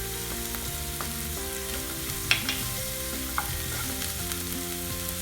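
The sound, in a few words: capsicum and onions frying in a pan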